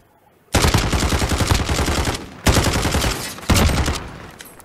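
Heavy automatic gunfire in a competitive shooter match, three long loud bursts of rapid shots with short gaps between them, no talking.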